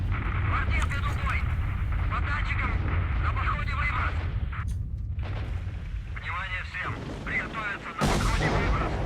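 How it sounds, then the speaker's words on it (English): A low, heavy rumble from a blowout emission in STALKER: Shadow of Chernobyl rolls on continuously, with booming swells and crackling bursts layered over it and a voice talking partway through. "I didn't remember this blowout happening."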